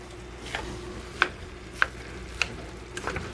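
Meat being cut up in a pan on the stove for lasagna, a few sharp knife or spatula taps spaced about half a second apart over a soft low sizzle, no talking.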